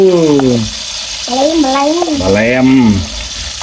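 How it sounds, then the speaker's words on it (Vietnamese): Coconut grubs sizzling in hot oil with fish sauce, a steady frying crackle under loud, excited voices talking and exclaiming close by. "Bây giờ chiên đủ vô nha các bạn."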